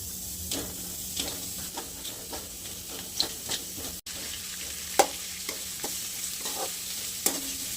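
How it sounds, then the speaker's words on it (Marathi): Onion sautés in a pan with a steady sizzle, broken by regular scraping strokes as a utensil stirs it, close and clear, with no talking. "हे कांदा पण आपण थोडासा परतवून घेणार आहे"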